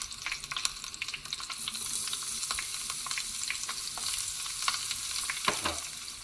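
Onion and garlic fry with pork in a pan over lowered heat, a dense steady sizzle broken by scattered crackles and pops, close and continuous with no talking.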